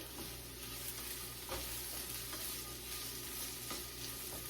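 Already-cooked pork sizzling in a stir-fry pan, a faint, even frying hiss that runs the whole time with a few soft clicks of movement in the pan.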